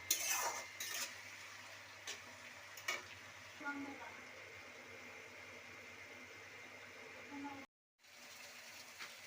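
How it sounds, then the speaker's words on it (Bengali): Spicy Bengali red chicken masala with tomato paste stir-fried in a pan, giving a steady low sizzle with scraping and clinks of a spatula against the metal, plus a brief gap of silence near the end. "এবার মশলাটা কষিয়ে নিব।"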